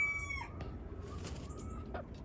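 Young chickens in a chicken run give a few close clucks and short crowing-like calls over a steady outdoor background.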